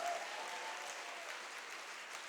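A church congregation applauds steadily as one sustained wash of clapping, with faint shouts mixed in, filling the room at a constant level with no pauses.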